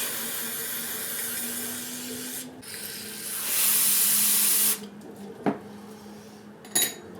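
Cleaner sprays onto a carburetor from a 2000 Yamaha G16 gas golf cart in a short hissing burst of about a second, set between quiet stretches, light metallic clinks and a couple of sharp knocks from handled parts, with no talking.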